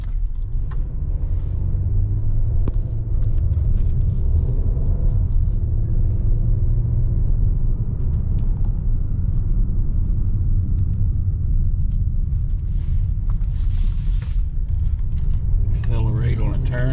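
A Kia Telluride accelerates through turns on a test drive, with a steady low cabin rumble of engine and road noise underneath someone talking throughout.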